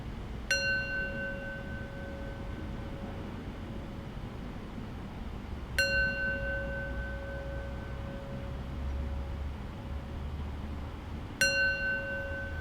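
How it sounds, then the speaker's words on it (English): A meditation bell is struck three times at roughly even intervals, each clear ring sustaining and slowly fading over a steady low background hiss, with no talking. "And now I'll close our meditation practice with the bell."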